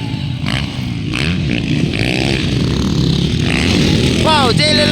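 Motocross bikes racing in an expert production first heat at Libungan North Cotabato, their engines rasping and revving loudly and continuously at mid distance under an excited commentator's voice.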